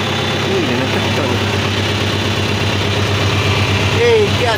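A tractor engine idles steadily throughout, a constant low mechanical drone near and fairly loud, with a few brief voice-like calls over it.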